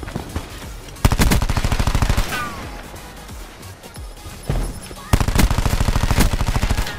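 Rapid automatic gunfire from Black Ops 4 gun game mode, loud bursts of dense machine-gun fire at the start and end with scattered shots and game effects in between, and no speech over them.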